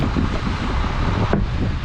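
Strong wind roars steadily across the microphone, a dense, loud rushing with no voices.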